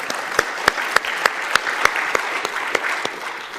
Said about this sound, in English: I would like to invite you to give a small round of applause for all those excellent presentations.